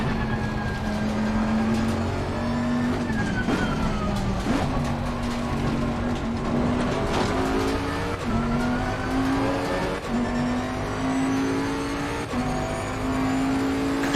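Race cars on the last lap of a racing video game roar loudly throughout, engine pitch climbing repeatedly and dropping at gear changes, with occasional tire squeal and no talk.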